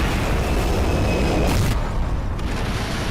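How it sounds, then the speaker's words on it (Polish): Explosions in a Skibidi Toilet battle animation: a dense, loud broadband roar of blasts fills the whole stretch, with a sharper burst midway and a rumbling tail. "Jakie wybuchy, co tam się dzieje?"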